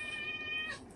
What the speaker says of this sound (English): that's my cat. Sorry, he's hungry.